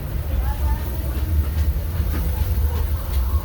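The Disneyland Railroad train rumbles along the rails with a low steady roar and faint clicking, close by and continuous.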